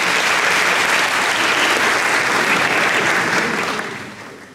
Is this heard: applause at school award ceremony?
yes